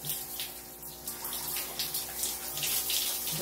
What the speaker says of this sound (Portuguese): Tem que tomar banho com roupa molhada, tá?